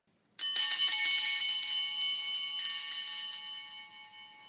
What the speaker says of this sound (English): Just gives you a hint of these Sanctus bells that let you know it's time to wake up and pay attention.